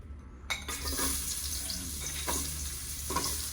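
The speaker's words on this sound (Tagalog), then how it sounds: "So ano to, magigisa na tayo." Onions sautéing in a pan as the first step of a squid adobo, a steady close sizzle and crackle running throughout with a few stirring scrapes, no talking.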